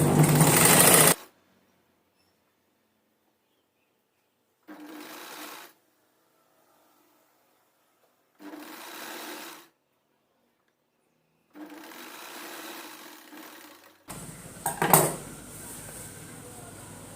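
A sewing machine joins the lining and main fabric of a long frock at the waist, running in four or five separate bursts of rapid stitching with silent pauses between, close and fairly loud.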